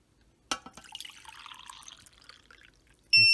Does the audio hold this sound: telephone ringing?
no